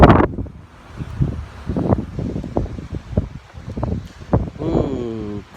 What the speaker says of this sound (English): The wind's kind of loud.